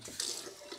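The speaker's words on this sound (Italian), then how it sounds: "pennello inumidito sotto l'acqua" A shaving brush is wetted under a running tap, giving a brief, close hiss of flowing water with a slight splash, alone with no voices.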